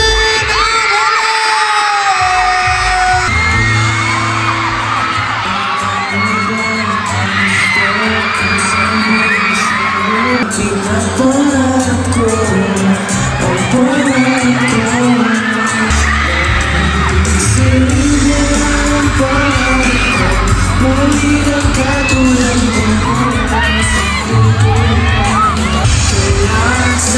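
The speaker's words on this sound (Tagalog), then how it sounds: "Gusto ko maramdaman ang inyong ingay at suporta magingay, sigawan, Robin Angelo!" Crowd at a mall show screaming and cheering loudly for a performer, a sustained wall of yells and whoops with shrill voices rising over it and music underneath, continuous and intense throughout.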